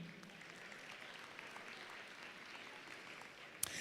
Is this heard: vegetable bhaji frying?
no